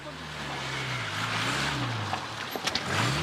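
A car engine idles and hums steadily at close range as a soldier drives during a special forces exercise, with a low rumble and some brief rattles near the end.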